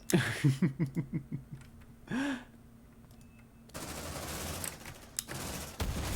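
Gunfire in the Aliens: Dark Descent video game starts as a rapid burst of repeated shots, followed by a brief creature-like cry and then a noisy rumbling combat din, all at a moderate level.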